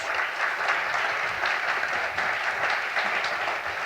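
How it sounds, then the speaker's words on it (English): Audience applause at a medical symposium following an educational skit on Parkinson's disease hallucinations, a steady, dense wash of many hands clapping that holds evenly throughout. "Ladies and gentlemen, a nice round of applause."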